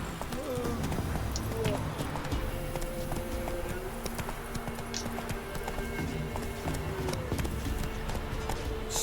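Horse hooves clip-clop steadily at a gallop in The Witcher 3, a rhythmic patter running continuously under ambient game sound, with a voice speaking over it.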